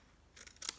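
Paper being cut with scissors, two quick crisp snips close up in a quiet room, the second sharper and louder than the first.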